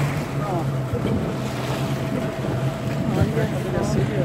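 A motorboat runs at speed on the open sea on a trip to Santo Aleixo island. A steady engine drone mixes with wind buffeting the microphone and waves slapping the hull, and people talk faintly.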